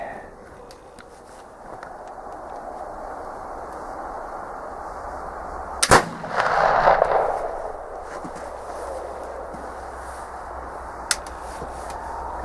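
A flintlock pellet gun fires with a single sharp crack, followed by a brief hissing whoosh of the powder burning, set against a steady outdoor background with a faint later click.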